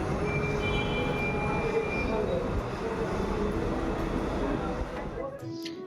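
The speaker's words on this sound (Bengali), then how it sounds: "এসে গেছি মেট্রো স্টেশন" A metro station platform is filled with a steady, loud rumble and roar of a train, continuous and even throughout, with a faint high whine and a quieter tail at the very end.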